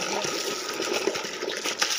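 Water from a pipe pours into a bucket in a village yard, giving a close, continuous splashing rush that never lets up.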